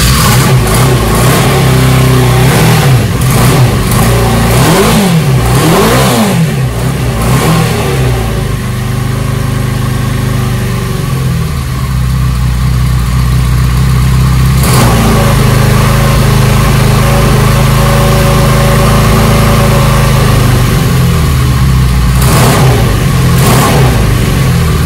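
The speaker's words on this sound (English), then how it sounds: "So as you can see, there's the bike running," A Honda CB500/CB550 custom scrambler motorcycle engine runs close and loud for the whole stretch, idling with repeated throttle blips that rise and fall in pitch, and no talk over it.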